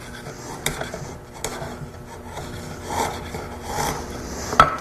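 A chisel or block plane cleaning up the ends of wood stock, giving soft scraping, rasping strokes with a few sharper taps, close and moderately quiet.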